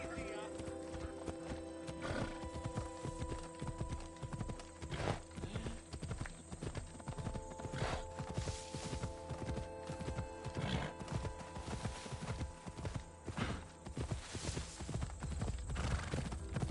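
Horse hooves clip-clop at a steady gallop while riding in Assassin's Creed Odyssey, with whinnies and neighs cutting in. The hoofbeats sound close and rhythmic, and a voice shouts over them at times.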